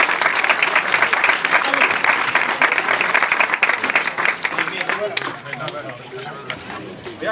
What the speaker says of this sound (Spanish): Pues también os aplaudo